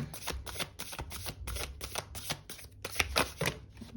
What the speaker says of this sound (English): we will go ahead and do one last shuffle and divide the deck